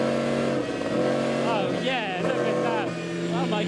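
Formula 1 car at speed at Silverstone, its engine loud and sustained, pitch climbing and dropping sharply through gear changes, with voices talking over it throughout.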